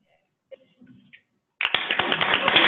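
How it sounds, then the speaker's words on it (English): Applause from the audience at a child nutrition workgroup meeting, starting abruptly after faint brief talk and then continuing as dense, steady clapping that fills the room. "I expect rounds of applause."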